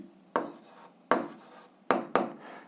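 Chalk or pen strokes scratch out an algebra equation, four short sharp scrapes at uneven intervals, close and fairly faint.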